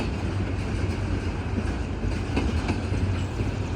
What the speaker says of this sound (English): Still got the train rolling.